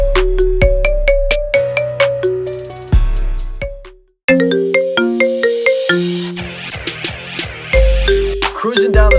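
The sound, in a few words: ringtone of a song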